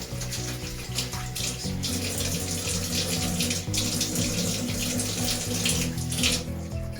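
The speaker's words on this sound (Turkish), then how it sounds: "Niyetimizi ettik ve yüzümüzü yıkıyoruz." A face is washed under a running tap during ablution: a steady stream of water pours and splashes continuously into a basin, close and fairly soft, with no talking.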